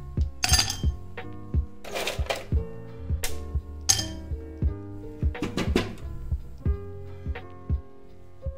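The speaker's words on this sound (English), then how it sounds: "few ice cubes on the glass." Ice cubes clink and rattle one after another into a glass while hibiscus iced tea is made, producing a close series of sharp, bright knocks and tinkles with no talk.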